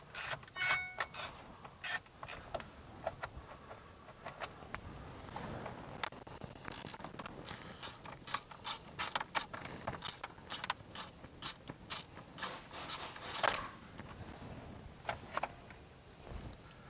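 Bolts on a 2008 Toyota Tacoma steering wheel are loosened and spun out a few threads, giving faint, close, rapid ratchet clicks and small metallic scrapes in a steady run over quiet background noise.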